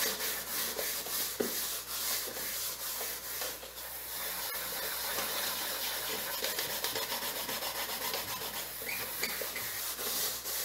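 Continuous scrubbing and rubbing of a pan by hand with detergent and running water hiss, a steady close-up wash with occasional clinks, no talking.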